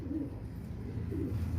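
A full-sized gola pigeon cooing at close range, soft low rolling calls in two swells against a steady background hum, with no talking.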